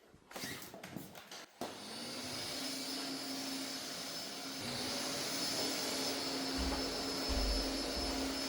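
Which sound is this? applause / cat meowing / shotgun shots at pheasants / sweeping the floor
sweeping the floor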